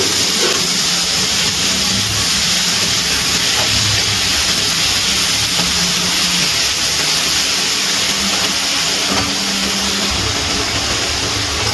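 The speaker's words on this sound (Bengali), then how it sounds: "হালকা করে ভেজে নেব চিংড়ি মাছগুলো।" Prawns frying lightly in hot oil for a yogurt prawn curry give a steady, dense sizzling hiss that stays loud and even throughout, with no talking.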